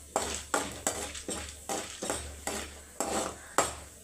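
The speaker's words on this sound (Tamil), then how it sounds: "இந்த மாதிரி நல்லா வந்து ப்ரௌன் கலரில் வர வரைக்கும் நல்லா வதக்குங்க." Chana dal being sautéed in a pan, stirred with regular metal scraping strokes roughly twice a second, each a crisp rasp over a faint sizzle, close and fairly quiet, with no voices.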